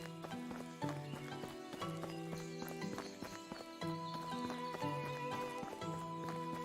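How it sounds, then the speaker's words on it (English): Donkeys trailing the player in the Medieval Dynasty video game, hooves clip-clopping in a steady, close rhythm over an ongoing layer of game music tones. "the donkeys carry extra weight for you, follow you around"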